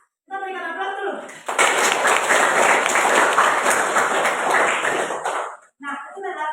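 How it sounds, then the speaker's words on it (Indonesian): Students clap together in a classroom, a dense burst of applause lasting several seconds, bracketed by a teacher's voice talking before and after. "Kita berikan aplaus dulu."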